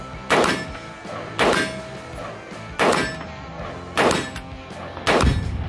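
Five loud gunshots at a Las Vegas shooting range, fired at a steady pace about a second apart, each a sharp close blast with a ringing tail and no talking.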